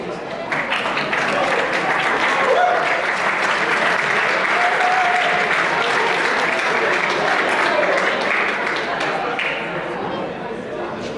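Sustained, dense audience applause after the final song at a Swiss folk music concert marking the choir's 10th anniversary, steady and loud throughout with a slight fade at the end.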